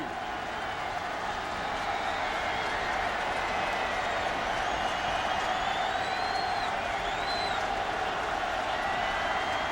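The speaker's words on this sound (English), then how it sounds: "Crowd trying to make some noise" Stadium crowd at a college football game between Marshall and Tennessee, a broad sustained roar of many voices with applause and occasional whistles, continuous and evenly loud across the stretch.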